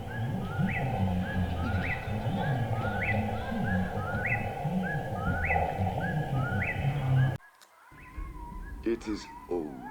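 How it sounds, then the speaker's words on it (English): A bird outdoors at a campsite repeats the same short call at a steady, regular pace over a busy, cluttered background. Voices and other noise sound underneath, and near the end the background drops away, leaving a few isolated clicks. "Talk about repetitive bird."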